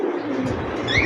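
Pigeons coo at a busy pigeon market, a dense continuous murmur of birds close by with a brighter call rising near the end.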